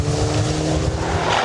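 A rally car is driven hard up a gravel stage at Rally Otago in New Zealand's 2008 championship: a loud, close engine roar with rising revs and tyres skidding on loose surface.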